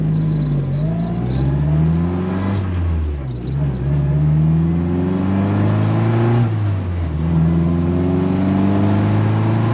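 A 60-year-old 1963 Mini's engine revs while driving, its droning pitch climbing and falling in repeated sweeps as it winds out, loud and close from inside the car.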